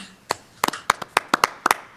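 A few people clap sparsely in a virtual meeting, about a dozen separate sharp hand claps spread irregularly over two seconds, with no talk.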